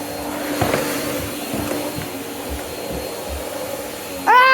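A corded vacuum cleaner runs with a steady, droning hum and some low thumps as it is pushed around, then a sharper whining surge at the very end.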